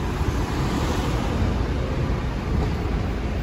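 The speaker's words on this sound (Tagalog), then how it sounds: "Medyo lumalakas ang hangin dito." Strong wind blowing around a parked delivery truck, a loud continuous roar and rush of air filling the whole clip with no pauses or voices.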